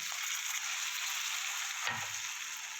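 Spice masala for a Bengali vegetarian potato curry sizzles steadily in hot oil in a pan, a close hissing fry with a brief stirring scrape near the end.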